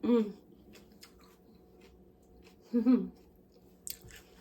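Close, crunchy chewing of refrigerated coleslaw in a few short bursts, with quiet wet mouth sounds in between and a faint voice-like murmur.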